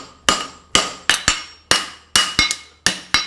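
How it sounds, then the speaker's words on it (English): A hammer bumps the middle of steel bar stock while forging a horseshoe, about ten sharp, ringing metallic blows in an uneven rhythm, each decaying quickly, close and loud. "I'm going to bump the middle of the steel first"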